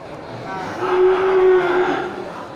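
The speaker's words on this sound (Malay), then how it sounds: "Ini sapi bless persilangan dengan jenis sapi lainnya" A large crossbred Simmental-Limousin cow moos once, a long sustained low bellow rising and fading over about a second and a half, close by amid faint livestock-market background noise.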